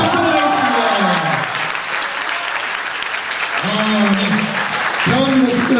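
A hall full of youth camp attendees claps in loud, dense applause that swells and continues while someone speaks over it through a microphone.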